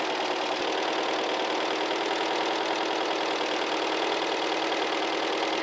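A 1981 VW Vanagon engine idles with a steady, dense mechanical rumble and fine rhythmic ticking, close and constant, as the vacuum advance is unplugged; no voices.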